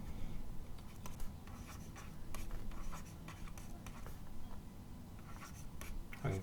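Hand writing of plasma physics equations during a lecture, a continuous scratchy scrawl of pen or chalk strokes with short pauses, close and steady with no talking.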